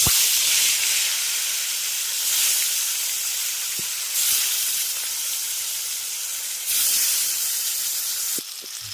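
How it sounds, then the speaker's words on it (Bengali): Fish sizzles in hot oil, a loud, steady hiss that swells in several bursts and drops off near the end, close up with no voices. "এবার মাছগুলো তেলের মধ্যে দিয়ে দেবো।"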